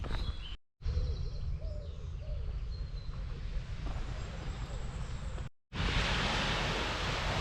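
Sea waves washing on an empty beach under bright summer sun, a steady broad roar of surf with wind, faint bird calls scattered through, the rush briefly cut out twice.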